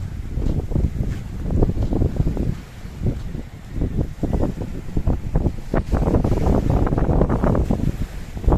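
Gusty wind buffets the microphone in loud, uneven rushes, with a faint wash of water underneath and no talking.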